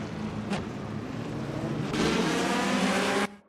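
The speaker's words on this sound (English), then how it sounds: "The V12 Symphony has started at Spa." V12 GT race cars at Spa in the Assetto Corsa racing game roar as they accelerate, a dense engine howl that builds and grows louder before cutting off abruptly at the end.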